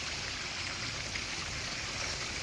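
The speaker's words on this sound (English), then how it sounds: "the waterfall looks freaking amazing" A garden koi pond waterfall pours in a steady, dense wash of splashing water that stays loud and even throughout, with no voices over it.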